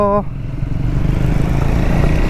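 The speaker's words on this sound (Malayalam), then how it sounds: "ഇതൊരു സ്ക്രാംബ്ലർ മോട്ടോർ സൈക്കിളാണ്." A Triumph Scrambler 400X motorcycle is ridden on a road, its engine a steady close drone mixed with rushing wind noise.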